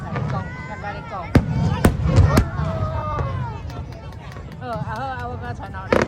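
A fireworks show bursts over Tamsui Fisherman's Wharf, with several sharp distant bangs and pops spaced irregularly under a crowd talking and chattering nearby.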